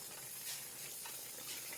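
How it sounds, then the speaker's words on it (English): Water steams in a pot of leek broth, giving a soft, steady hiss with faint bubbling swells, quiet and continuous with no voices. "we're cooking with water, and it's steaming"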